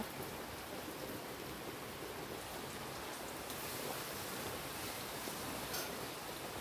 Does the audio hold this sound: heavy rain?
yes